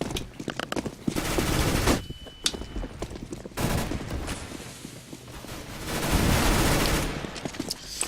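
Submachine gun fire in a competitive esports video game match, rapid automatic bursts alternating with short pauses and quieter in-game noise, loud and close, with no talking.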